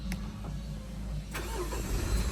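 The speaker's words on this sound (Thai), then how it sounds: "เครื่องยนต์ก็จะสตาร์ทติดนะครับ" A 2019 Mitsubishi Triton pickup's engine starts with a push of the smart-key button: a short crank burst midway, then a steady low idle rumble close by, with no talking.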